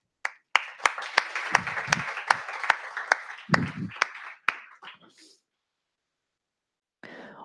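A small audience at a Women Techmakers Berlin JavaScript crash course lecture claps for about five seconds, sharp individual claps standing out over a dense patter, then it falls silent, with a brief faint sound near the end.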